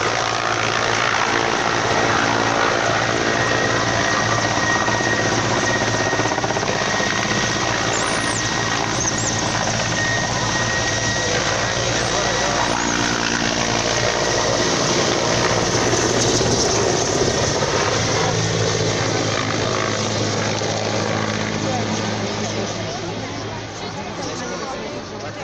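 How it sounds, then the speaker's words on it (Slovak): A Mi 171 helicopter flies at the Nitra 2016 air show, its rotor and engine roaring loud and continuous for the whole stretch, with crowd chatter and a public-address voice underneath. "Tento vrtuľník Mi 171,"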